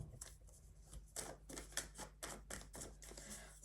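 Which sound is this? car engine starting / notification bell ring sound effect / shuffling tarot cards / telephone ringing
shuffling tarot cards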